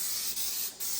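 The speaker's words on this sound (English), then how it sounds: "We're gonna spray some damn Pam on here." Pam cooking spray hisses onto a pan before pork burgers are cooked, a close, bright spray in a few quick bursts with brief dips between them.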